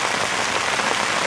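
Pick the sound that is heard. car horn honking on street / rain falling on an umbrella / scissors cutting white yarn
rain falling on an umbrella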